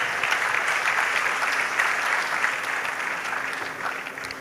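Steady applause from a crowd at a school graduation ceremony, dense clapping that holds for several seconds and fades slightly toward the end.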